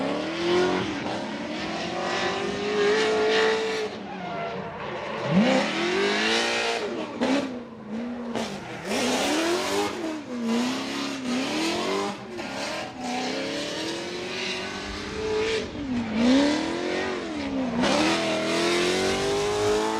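A Formula Drift PROSPEC drift car makes its top 32 bye run at Atlanta, engine loud and close with repeated rising and falling revs, bouncing off the limiter, tire squeal throughout, and no talk over it.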